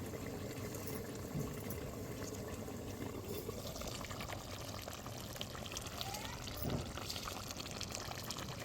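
Fish curry with bocche fish simmers in a covered pot, giving a continuous low bubbling and hiss with faint wet gurgles throughout and no foreground voices.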